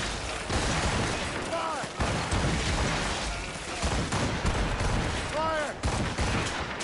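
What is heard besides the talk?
ship cannons firing in video game Assassin's Creed Rogue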